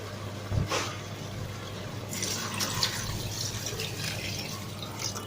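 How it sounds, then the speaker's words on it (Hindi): Water poured into a pot of turnip and meat curry (shaljam gosht) on the stove, a soft continuous splashing and trickling, fairly quiet and close, with no talking. "बस अब इसमें मैं पानी डाल देती हूँ"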